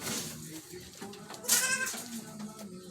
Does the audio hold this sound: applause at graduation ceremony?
no